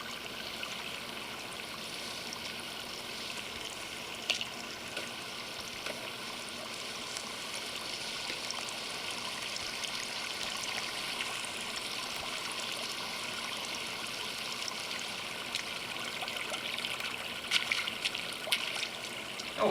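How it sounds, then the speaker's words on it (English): Stream water flows steadily through a video game scene, a faint, continuous rushing trickle with no pauses and a few slightly brighter splashy moments. "Oh, we found some water."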